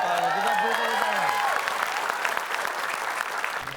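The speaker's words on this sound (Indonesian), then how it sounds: "Kita beri tepuk tangan." Studio audience of a comedy quiz show applauds loudly and steadily for nearly four seconds, with a sustained wash of clapping. A few tonal music or voice traces ride over the start.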